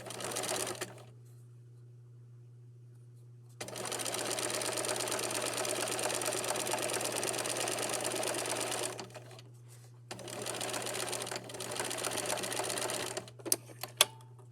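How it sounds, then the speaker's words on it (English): A sewing machine runs a quarter-inch seam in two long stretches of fast, even stitching, with a constant low hum between runs and a few clicks of the mechanism at the end. "you're going to stitch a 1/4 inch seam allowance right across"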